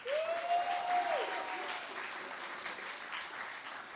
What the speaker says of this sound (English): Audience, give yourselves a round of applause, please.